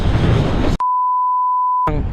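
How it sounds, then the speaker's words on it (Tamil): A censor beep covers a swear word during a motorcycle vlog near Krishnagiri dam, a single loud steady tone of about a second that cuts in abruptly over background noise and then stops. "பீப் சவுண்டு தான் போடணும்டா"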